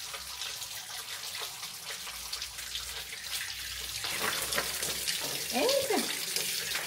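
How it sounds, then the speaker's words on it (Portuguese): Tap water runs into a small plastic bag to rinse out leftover cleaning product during heavy house cleaning, a steady faint splashing wash that grows slightly louder toward the end. "Colocar água no saquinho para sair o resto do produto."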